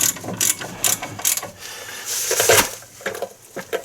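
A ratchet tightening the front brake caliper bolts on a 2014 GMC Sierra / Chevy Silverado truck: loud, close bursts of rapid metallic clicking in quick repeated strokes, with brief pauses between pulls.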